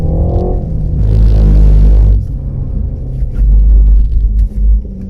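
A Renault Megane RS Trophy on a track slides and overcorrects, its engine a loud, close rumble that drops off, then swells again with a brief tyre scrub, no talk over it.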